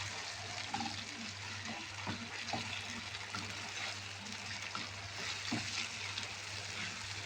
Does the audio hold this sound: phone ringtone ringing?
no